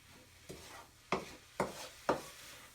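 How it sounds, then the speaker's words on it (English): Food stir-fried in a hot pan after soy sauce is added, heard as four quick scraping strokes, each with a short sizzle, quiet and close with brief pauses between. "we'll continue to stir fry this for about another minute"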